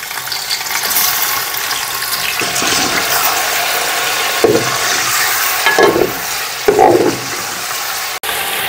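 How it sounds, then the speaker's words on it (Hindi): A kilo of chicken fries in a cup of oil for Sindhi biryani, giving a loud, continuous sizzle with several louder bursts as the pieces are stirred and turned. "1 किलो चिकन को इस ऑयल में थोड़ा सा भून लेते हैं।"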